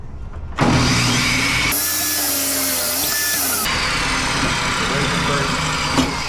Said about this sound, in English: now that we've got our jig, we can power on our saw